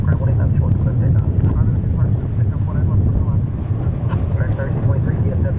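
An airliner, an A380 turning onto final approach at DFW Airport, drones as a steady low rumble throughout, heard from the ground amid wind and crowd noise with voices talking over it.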